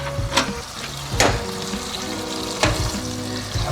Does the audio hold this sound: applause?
no